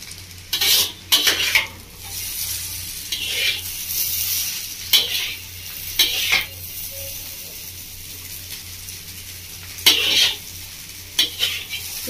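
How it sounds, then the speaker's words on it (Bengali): A utensil stirs chow mein with mushroom and egg in a pan, Bengali village style: scattered scraping and clinking strokes over a faint sizzle, close and moderately loud, with no talking. "একটু ভালো করে নেড়ে নেবো।"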